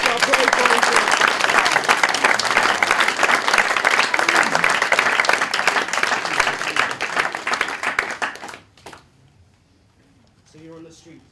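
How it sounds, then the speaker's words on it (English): Theatre audience clapping for volunteers after a participatory segment, a dense, loud round of applause lasting about eight seconds before cutting off abruptly, followed by near silence and a brief faint voice. "Can we have a big round of applause for our brave volunteers?"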